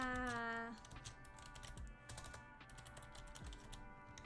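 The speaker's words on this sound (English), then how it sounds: "you're gonna hear me like click clacking on the keyboard" Fast clicking keystrokes on a computer keyboard, a continuous irregular patter of sharp taps close to the mic, with a faint tonal sound fading out at the start.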